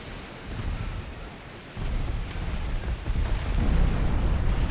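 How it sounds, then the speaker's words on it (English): Naval 14-inch gun battery firing in the Ultimate Admiral Dreadnoughts warship game: deep, rolling booms that swell into a sustained, loud low rumble, building heavier toward the end, with no voices. "The 14-inch batteries are nearly reloaded. Fire them! Fire the 14s!"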